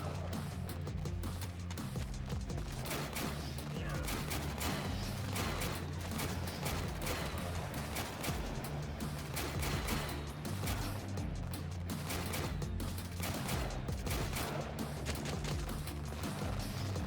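Turret gunfire in the Warpips strategy game during a General-difficulty, no-vehicles match: dense, continuous rattling shots over a steady low battlefield rumble, loud and unbroken throughout.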